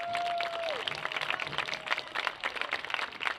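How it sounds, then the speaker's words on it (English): Crowd applause in a high school stadium for youth players at a girls lacrosse match, dense steady clapping from a distance that carries over the whole stretch, with a brief whistle-like tone fading out at the start. "If everyone could please give our youth a round of applause."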